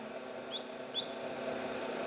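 Newly hatched chick squeaking: two short, high chirps close together near the start and middle, faint over a steady background hum, with no talking.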